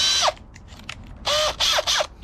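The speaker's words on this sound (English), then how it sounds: "Now we're going to use the Harbor Freight spot weld cutter" A power drill fitted with a spot weld cutter whirs in four short bursts on a 1992-95 Honda Civic radiator support, each spinning up and winding down with a high mechanical whine, close by with quiet gaps between.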